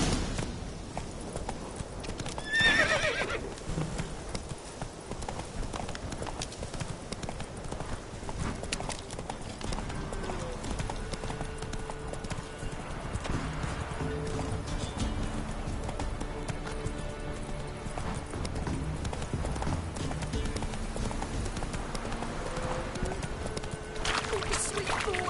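Galloping horse hooves clip-clop in a steady rhythm in The Witcher 3, close and continuous, with a brief whinny near the start and ambient game sounds beneath.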